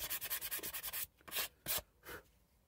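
Rhythmic rubbing strokes of hand sanding a fabric-covered droplet-shaped pin cushion form, a quick run of short even passes, then a few slower, longer strokes separated by pauses.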